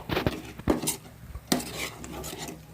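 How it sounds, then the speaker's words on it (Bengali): A utensil clinks and scrapes in a pan a few times while Kashmiri chili is stirred into a paste for shahi paneer, close and fairly quiet. "কাশ্মীরি মির্চ দিয়ে একটু নাড়বো"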